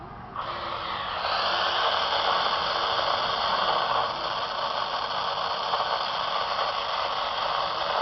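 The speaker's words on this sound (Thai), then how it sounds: "เป็นย่าน 27 เมกะเฮิรต์ น่าใช้ตรงนี้ เสียงซ่า ออกลำโพง" Steady, loud static hiss pours from the speaker of a 27 MHz CB radio, an Eatel set, rising slightly after a second and holding as an unbroken wash of noise with no talk.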